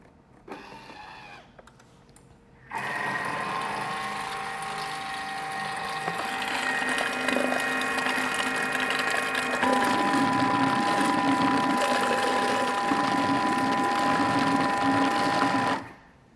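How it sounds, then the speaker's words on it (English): A blender whirs steadily through sugar-free cheesecake filling with passion fruit puree, a loud continuous motor whine lasting about thirteen seconds that shifts pitch partway through, after a brief voice at the start. "Now we're going to blend this."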